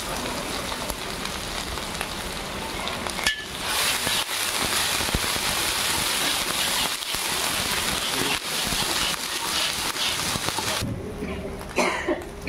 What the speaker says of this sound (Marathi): हे मिरचीची पेस्ट टाकते, अद्रक पेस्ट टाकते, लसूण पेस्ट